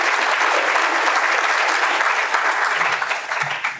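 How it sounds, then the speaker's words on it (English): Audience applause in a hall during a public health commissioner's talk in Chicago, steady and full for a few seconds before easing slightly. "you can clap for that"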